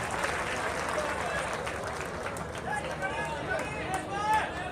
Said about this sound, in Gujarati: ત્યાં જગદીશભાઈ ડાભીને એકવાર જોરદાર તાળીના ગડગડાટથી વધાવી લે સાહેબ